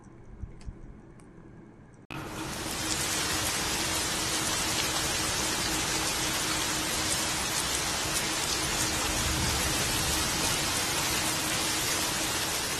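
Steady heavy rain begins suddenly after a quiet moment, then pours continuously as a dense, hissing wash of drops.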